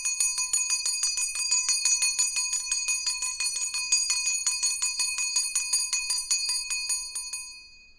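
A small prayer bell rings steadily at close range, a rapid series of bright metallic strikes with shimmering overtones that blur into a continuous ringing before fading at the end, with no one speaking.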